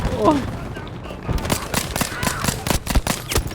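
Rapid bursts of gunfire crackle in Battlefield V, loud, sharp shots repeating in quick succession over the second half after a quieter start.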